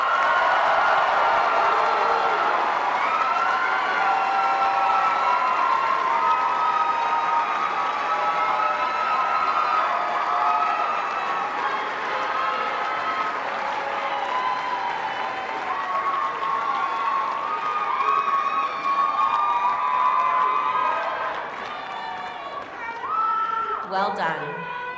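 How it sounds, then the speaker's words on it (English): An audience at a Kalamazoo Valley Community College commencement ceremony applauds and cheers the graduates, a dense continuous roar of clapping and crowd noise that stays loud throughout and only thins out near the end. "Will the audience join me in a resounding and deserved applause for each of the graduates of Kalamazoo"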